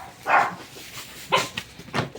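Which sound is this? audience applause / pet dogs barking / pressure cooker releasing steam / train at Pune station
pet dogs barking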